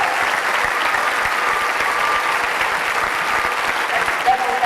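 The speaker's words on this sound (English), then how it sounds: "So please, a round of applause for the tech crew, light and sound." A regional theater audience at a production of The Music Man applauds the light and sound tech crew, a full, continuous roll of clapping with faint voices underneath.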